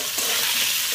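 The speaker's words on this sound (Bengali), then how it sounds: "তেল গরম হয়ে গেছে, পনিরগুলো আমি দিয়ে দেবো" Pieces of paneer hit hot oil with a loud, close, continuous hiss and crackle. The sound is dense and steady throughout, with no speech.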